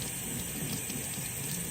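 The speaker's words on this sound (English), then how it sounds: "clean water sink. Just give it a good rinse." Resin 3D printed parts being rinsed under a running sink tap: a steady, loud, even rush of water with no breaks.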